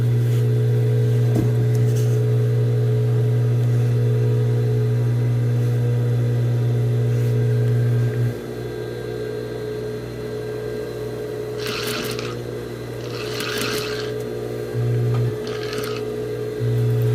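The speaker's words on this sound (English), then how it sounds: "So I'm going to sew up to that dot." A sewing machine stitches fabric up to a marked dot near an inward corner, a steady close motor hum running throughout with slight changes in pitch and a few faint clicks.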